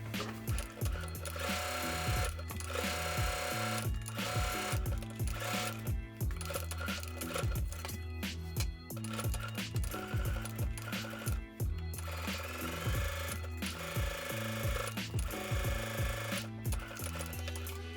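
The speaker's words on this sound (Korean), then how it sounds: "이렇게 고정했으면 여기도 양옆에 재봉을 해주세요." A sewing machine stitches fabric for an eco bag in rapid mechanical bursts, starting and stopping repeatedly, close and clear with no one speaking.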